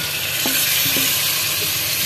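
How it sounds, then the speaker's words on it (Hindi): Beef pieces added to masala and tomatoes frying in a pan for balti gosht, a loud constant close sizzle with a few faint knocks, no speech. "अब हम ये गोश्त डाल रहे हैं"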